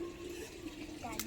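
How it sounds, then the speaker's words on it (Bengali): Running water rushes steadily over things being washed, close and fairly faint, with a short brighter splash near the end and a voice present in the background. "এবার আমরা ধুয়ে নেবো সব।"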